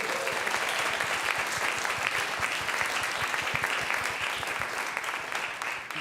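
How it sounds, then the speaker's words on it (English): Sustained applause from a congregation at a Sunday service at Columbine Unity Spiritual Center, a steady dense clapping that fills the room and tapers slightly at the end. "can I get a round of applause for Augustus?"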